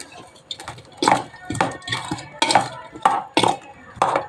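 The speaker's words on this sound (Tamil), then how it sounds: "எல்லாத்தையும் மிக்ஸ் பண்ணிக்கலாம்" A spoon scrapes and clinks against a bowl in a steady rhythm, repeated strokes of mixing a thick pani puri masala mixture, fairly close.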